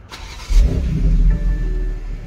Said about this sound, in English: put your foot on the brake, and hit the dash mounted button to go.